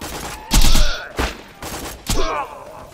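Heavy gunfire from a weapon in a video game arrives in three loud, booming bursts about half a second apart, each with a ringing tail, with faint background noise in between.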